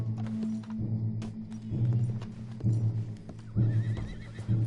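Horses in the video game Red Dead Redemption 2 whinny repeatedly over a steady low rumble, with hoof clatter and scattered thumps in between; no one speaks.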